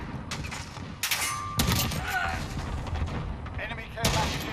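Gunfire in the video game Modern Warfare, a series of sharp marksman rifle shots and thuds among other battle noise, with a player talking over it.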